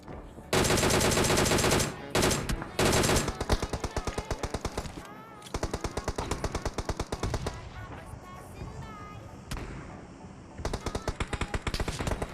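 Rapid bursts of gunfire from a PUBG match, including M24 sniper rifle shots, crackle in dense loud volleys with brief gaps, then sharper separated reports, close and dominating throughout.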